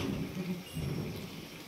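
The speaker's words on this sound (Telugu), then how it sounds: "అయ్యా వాన వస్తట్టుందిగా." Steady rain falls in a village, a soft continuous hiss with a low rumbling wash underneath, moderately loud and uninterrupted for under two seconds, with no voices.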